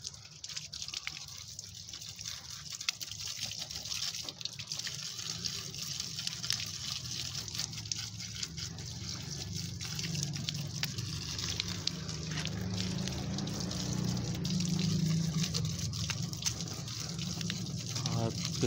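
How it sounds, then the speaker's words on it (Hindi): Water sprays in a steady hissing stream against a car's metal AC condenser, washing out dirt, with gurgling and dribbling underneath, continuous and close. "बस हल्का हल्का पानी मारते जाए, खुद ही मिट्टी निकलती जाएगी।"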